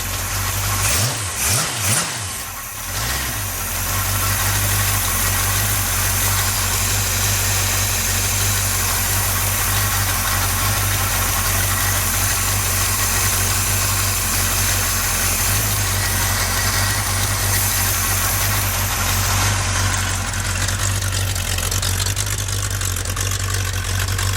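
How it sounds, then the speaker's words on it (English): A newly installed engine in a 1966 Chevy truck cranks briefly, fires up and settles into a loud, steady, rumbling idle that runs on without interruption, close by, with no talk. "I spun it over till it got oil pressure. And pumped the gas 2 times and it fired right up."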